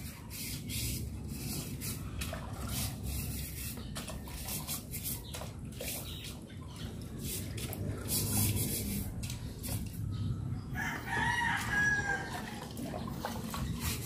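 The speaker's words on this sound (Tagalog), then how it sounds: "Mga manok." Chickens and a rooster on a farm at a home where the birds have just been fed, with faint clucking and a crow under steady outdoor noise and hiss.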